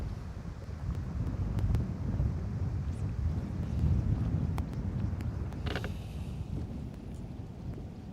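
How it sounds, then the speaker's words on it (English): Breezy wind gusting across a lake during a bass fishing outing, rumbling and buffeting the microphone in a steady low roar with faint ticks and clicks, and no talk. "It's a little breezy."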